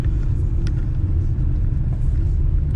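A Tata Nexon diesel in fourth gear gives a steady low engine rumble, heard from inside the car, with a faint voice over it.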